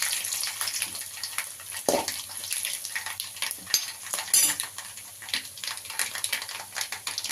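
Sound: tempering spices frying in oil for sambar

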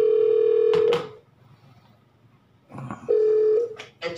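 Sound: telephone dialing tones connecting to a webinar

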